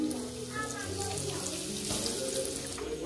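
Pomfret fish frying in a pan, a constant close hiss and crackle of hot oil, with voices talking over it.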